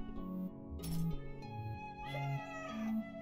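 A cartoonish cat in the video game Ikenfell gives a couple of short meows over soft, chiming background music, faint and close, with no voices.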